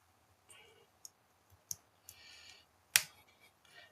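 Plastic parts of a 1/8 scale 1989 Batmobile model kit snapping together, giving a few sharp, close clicks spaced out over a quiet background, one louder snap standing out.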